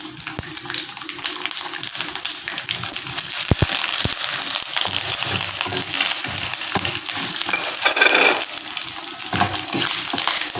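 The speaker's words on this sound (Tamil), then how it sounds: "கருவேப்பிலை போடுறேன்." Curry leaves dropped into hot oil for tamarind rice crackle and sizzle loudly and steadily at close range, with a few sharp pops and stirring scrapes and no voice over it.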